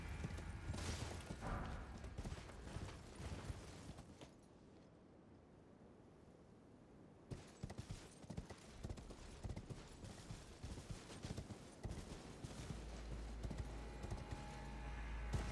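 A horse's hooves clip-clop at a gallop along a wooded path in Elden Ring, a rapid continuous drumming that pauses briefly midway, then resumes and carries on steadily to the end.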